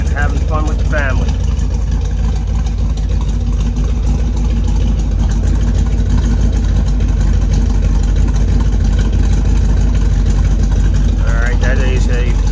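A 1968 Camaro engine with factory dual exhaust and factory muffler rumbles steadily at idle from close by, loud and continuous throughout.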